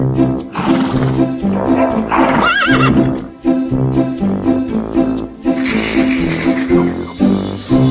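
A horse neighs and whinnies loudly several times in a movie scene, with hoof clip-clops and a dense, roaring mix of music and effects underneath.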